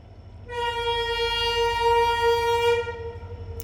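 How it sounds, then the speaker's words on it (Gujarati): A train horn blares loudly and steadily for about two seconds at a level crossing over a low rumble of rolling rail cars, then cuts off while the rumble continues. "વચમાં ફાટક આવે છે ટ્રેને હવે આવી ગઈ છે"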